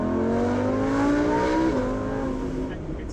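A fast car accelerates hard in sport mode, its engine note climbing steadily in pitch across the whole stretch with a brief dip like a gear change, loud and close from inside the cabin.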